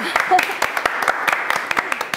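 A small group gives applause, a sparse run of sharp, distinct hand claps close by, with voices murmuring underneath.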